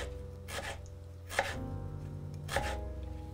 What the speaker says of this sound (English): so that you can cut the tomatoes super thin